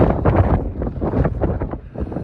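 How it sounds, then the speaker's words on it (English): Strong wind buffets the microphone in loud, continuous low rumbling gusts at a hiking trailhead on Madeira in January, with no other sounds standing out. "I don't know if you can hear me, it's so windy."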